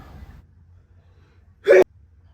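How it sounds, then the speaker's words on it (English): One sharp, loud sneeze cuts in close to the mic after a brief stretch of faint murmuring and low background noise, then quiet follows. "I gotta sneeze, y'all."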